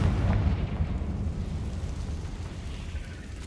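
A Confringo blasting spell from Hogwarts Legacy erupts as a heavy, rumbling explosion that starts loud and slowly fades over a few seconds.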